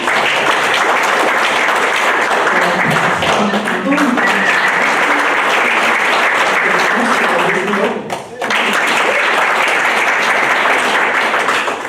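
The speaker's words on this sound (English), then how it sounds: "Give a round of applause for Nat here on the clarinet." A concert audience at a library summer concert series applauds a clarinetist with a klezmer band: dense, loud, sustained clapping that fills the whole stretch, with voices mixed in and a brief dip near the end.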